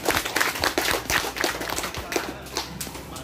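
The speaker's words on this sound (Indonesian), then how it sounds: "Tepuk tangan buat semua ini." Scattered audience clapping at the opening of a community disaster-relief post, a small group of hands beating in uneven, distinct claps that rise and fall across a few seconds.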